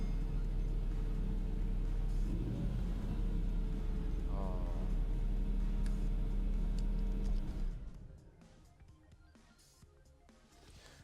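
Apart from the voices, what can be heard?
2006 Mercedes-Benz SLR McLaren engine idling rumble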